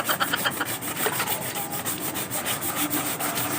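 Steady hand sanding on the painted body panels of a Yamaha XTZ 125, a close, continuous scratchy rubbing with quick repeated back-and-forth strokes, no voices.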